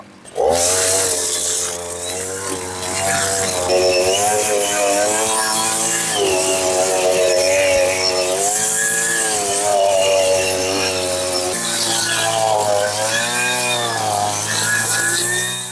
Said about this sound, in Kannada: ವೀಟ್ ಕಟ್ಟರ್ ನೋಡಿ ನೋಡಿ ಸರ್ ಹೇಗ್ ಸ್ಟಾರ್ಟ್ ಆಗುತ್ತೆ ಸಿಂಪಲ್